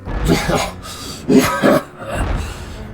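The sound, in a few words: imitated coughing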